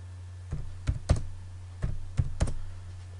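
Six separate key presses on a computer keyboard while a chamfer command is entered in CAD software, arriving in two groups of three, fairly close and crisp over a steady low hum.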